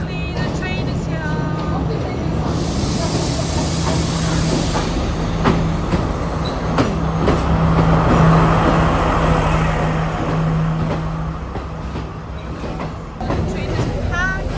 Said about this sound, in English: finally the train is here.